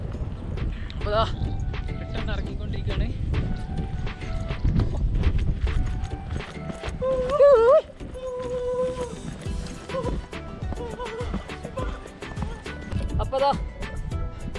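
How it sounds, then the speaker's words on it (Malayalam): Horses walk along a trekking trail at Thajiwas Glacier, their hooves clopping in an uneven rhythm against a rumbling outdoor background. People talk nearby, and there are occasional whistled or calling tones. "ഇവിടെയൊക്കെ കുതിരകളും കാര്യങ്ങളും ഉണ്ട്."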